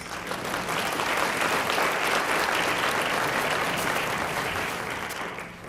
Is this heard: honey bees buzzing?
no